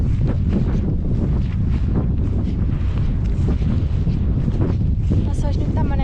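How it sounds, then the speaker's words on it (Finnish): Strong wind on an open Lapland fell buffets the microphone with a loud, constant roar and rumble throughout, with a voice faintly audible underneath. "täällä tuulee niin paljon"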